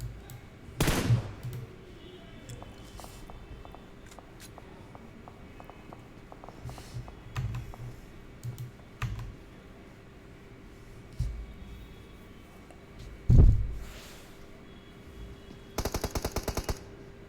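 Gunfire from a PUBG Mobile tournament match: scattered single shots and short bursts, some distant, a couple of loud close cracks, and a rapid automatic burst near the end, with faint footsteps between.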